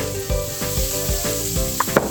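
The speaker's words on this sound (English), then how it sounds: "So we've been frying the leek and the peppers" Leek and peppers frying in butter in a pan, a soft continuous sizzle broken by periodic stirring scrapes and a couple of sharper utensil knocks, close up with no talking.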